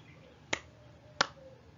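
Two sharp, well-separated hand claps in a quiet room, part of a children's rhythm exercise in an elementary school science lesson about sound; each clap is brief and crisp, with no talking.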